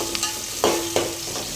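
Onions frying in oil for pulao, a soft steady sizzle with two or three distinct scraping strokes of a spoon stirring the pan, close and clear with no voices.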